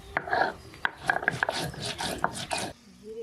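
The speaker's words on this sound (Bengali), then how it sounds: "আমি একটু জিরে বেটে নিই" Cumin seeds are ground on a stone slab with a grinding stone, a quick run of close, rhythmic scraping and rubbing strokes that stops abruptly near the end.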